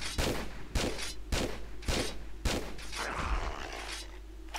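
Rifle gunfire in the video game Tomb Raider Quest of Gold: five sharp, loud shots at roughly even half-second spacing, followed by a rougher burst of noise near the end, with no talking.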